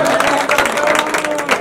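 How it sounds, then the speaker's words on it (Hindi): A crowd at a local ceremony honouring a 19-year-old dragon boat medal winner claps loudly, with uneven bursts and a murmur of crowd noise mixed in. "जोरदार तालियां"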